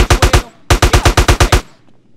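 Automatic gunfire in GTA San Andreas, a loud close burst of four rapid shots, a short gap, then a longer burst of about eight evenly spaced shots before it cuts off.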